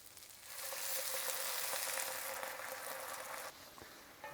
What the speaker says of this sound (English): We're going to deglaze that with some white wine.